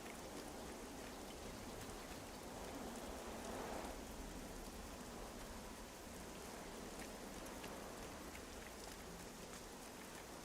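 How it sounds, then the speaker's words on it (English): Heavy rain falls in the video game Gothic 1 Remake, a quiet, steady hiss of downpour that holds evenly throughout with no voices. "It's raining pretty hard"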